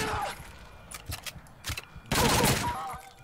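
Gunfire in the shooter video game WolfenDoom: Blade of Agony: a few short rattling bursts followed by a longer, louder volley, with game noise underneath.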